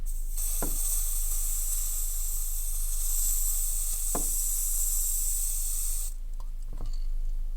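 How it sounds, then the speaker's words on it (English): A steady, loud aerosol spray of Renault decapant hisses continuously for several seconds, then cuts off, with a few faint clicks along the way. "I'm using a Renault spray"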